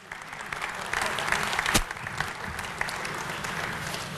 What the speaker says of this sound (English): Big round of applause for Jeff Buds.